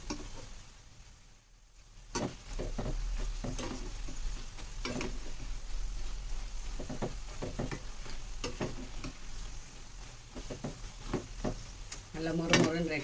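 Pakoda fritters cook in hot oil with a steady low sizzle, broken by sharp clinks and scrapes of a utensil stirring and lifting them from the pan, close and fairly quiet.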